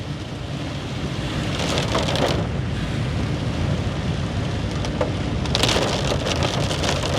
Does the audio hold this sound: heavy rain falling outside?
yes